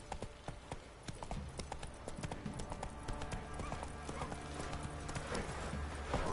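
Hooves of Roach, Geralt's horse in The Witcher 3, clip-clop in a steady galloping rhythm, close and prominent, with game ambience and music underneath.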